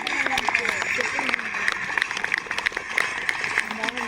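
An audience claps at a school Independence Day celebration held at St Joseph Church Rochmanagar School. The applause is crowded and patchy, and it keeps going under a voice speaking loudly over a microphone.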